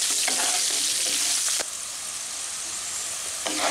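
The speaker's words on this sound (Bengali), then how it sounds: "আলুগুলোকে দিয়ে আমি আলুগুলোকে ভালো করে ভেজে নেব" Potatoes fry in hot oil with salt and turmeric, giving a loud, even sizzle close by. A couple of quick stirring scrapes cut through the hiss.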